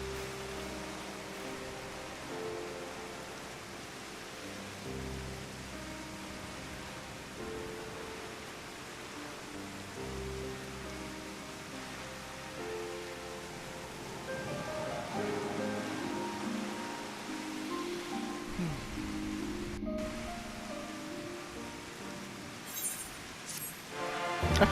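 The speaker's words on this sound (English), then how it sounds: "whenever it rains in game, it rains way too hard" Heavy rain in Final Fantasy XIV falls as a constant, even wash of hiss beneath soft game music, steady for the whole stretch with no voices.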